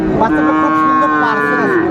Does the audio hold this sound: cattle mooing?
yes